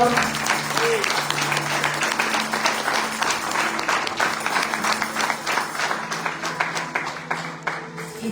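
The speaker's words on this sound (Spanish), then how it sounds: "Dale un fuerte aplauso a la palabra del Señor." A church congregation breaks into sustained applause, many hands clapping in a full, steady roar with a lower sustained tone underneath.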